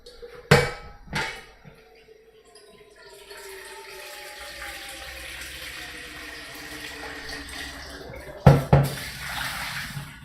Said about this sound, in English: I need some hot water on for these noodles actually.